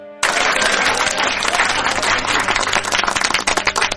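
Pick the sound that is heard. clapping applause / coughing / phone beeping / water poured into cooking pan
clapping applause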